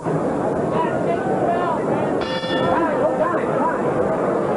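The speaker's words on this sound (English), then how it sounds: "And the bell sounds ending round 5" Boxing ring bell clanging to end round 5 of a Virgil Hill vs Ramzi Hassan fight, a single metallic strike with a ringing tail, heard under a loud, steady arena crowd roar.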